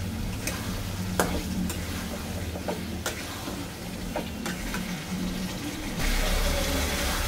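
Masala sautéing in a pan for a vegetarian dish with green chillies, a steady low sizzle with intermittent scraping clicks of a spoon stirring, continuous and close, growing slightly louder near the end.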